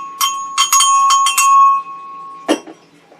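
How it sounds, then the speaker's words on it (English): A decorative cowbell struck several times in a quick run of bright metallic clanks with a sustained ringing tone, then one more hit after a short pause, close and loud with no talk. "I don't have a Liberty Bell, so I use a cowbell. Here, let's hit you up with the decorative one"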